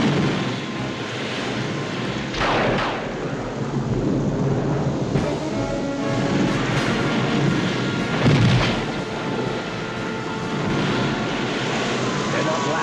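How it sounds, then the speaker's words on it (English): Thunder during a heavy rainstorm: loud rolling booms swell and crack over a dense, steady wash of rain for the whole stretch, with no clear talk. "It's only the thunder."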